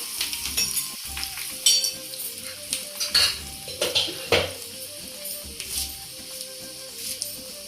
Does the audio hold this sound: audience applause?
no